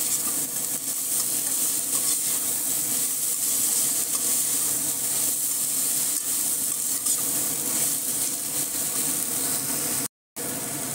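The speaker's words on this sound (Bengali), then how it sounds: "লবণ হলুদ দিয়ে আমি হাই ফ্লেমে কিছুক্ষণ নাড়িয়ে চাড়িয়ে নেব" Arum stems with prawns stir-fried over a high flame, giving a steady, loud sizzle and hiss with scraping stirring throughout, close up and without talk, cutting out briefly near the end.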